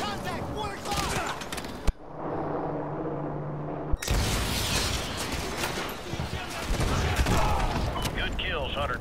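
Call of Duty: Modern Warfare 2 gunfire rolls on almost continuously as heavy, dense shooting and explosions. A short, quieter break sits near the start, and radio-style voices talk over the battle.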